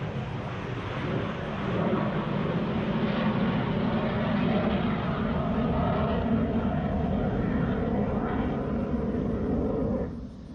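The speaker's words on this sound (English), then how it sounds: "Gotta hold on while this jet flies over, right over the top of me." A jet aircraft passes directly overhead near an airbase, a loud, sustained broadband roar that holds steady for about ten seconds before cutting off sharply at the end, with no talking.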